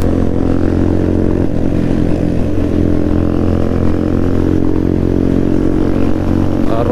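Several motorcycles on a Sunday group ride to Sadra Fort rumble steadily at close range, a continuous loud engine drone with layered low harmonics and no pauses.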